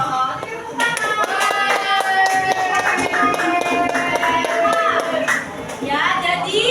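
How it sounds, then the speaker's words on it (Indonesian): Schoolchildren in an elementary school classroom in Tangerang clap together in a lively burst that keeps going at a steady, busy rhythm, with bright children's voices mixed in. "Tepuk tangan."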